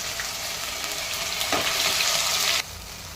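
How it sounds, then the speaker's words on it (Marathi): Onion-coconut masala paste for egg curry frying in oil, a close, loud hiss that swells as it is stirred, then cuts back sharply to a quieter sizzle near the end. "आता हा मसाला आपण चांगला तेल सुटेपर्यंत, असं दाणेदार होईपर्यंत परतवून घेऊया."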